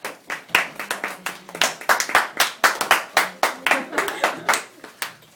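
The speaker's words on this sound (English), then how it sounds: "Yep, you can clap." A small classroom audience at an AP Biology presentation claps in a loose, uneven rhythm of distinct hand claps for several seconds, with a few faint voices underneath.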